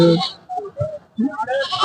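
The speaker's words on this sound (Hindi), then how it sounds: "यहाँ पर भी देख सकते हैं एक जो भेड़ा है" A ram of about 30 kg bleats at the Sarangarh goat market, giving two or three close, wavering calls in a row over a noisy crowd.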